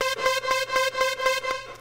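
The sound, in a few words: Logic Pro classic trance synth lead preset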